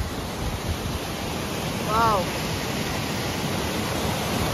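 Meltwater pours out from under snow in the mountains near Sonmarg, a continuous broad rushing close by, with a brief exclamation from a voice midway.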